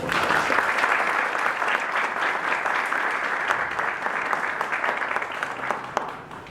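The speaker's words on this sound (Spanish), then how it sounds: "Les pido un aplauso para ella." An audience claps at a law faculty lecture series on criminal judges and criminology, a dense, sustained round of applause from a full room that slowly tapers off.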